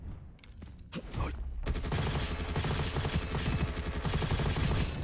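Rapid automatic gunfire from an upgraded weapon in the shooter game Gunfire Reborn, a sustained loud burst after a few scattered shots, continuing densely to the end.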